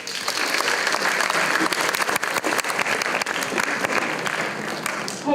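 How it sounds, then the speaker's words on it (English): A school prom assembly audience applauds a guest speaker coming up to the stage: steady, dense clapping from a large crowd, loud and sustained for several seconds without a break. "please give her a round of applause as she comes up"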